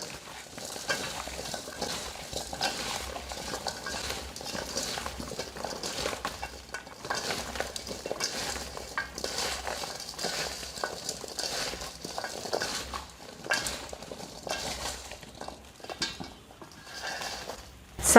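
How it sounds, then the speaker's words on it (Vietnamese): Cut vegetables and salt are tossed and stirred together by hand in a bowl for pickles, a continuous rustling, crunching shuffle with soft knocks, close and fairly quiet, without talk. "Bây giờ mình trộn đều lên nè."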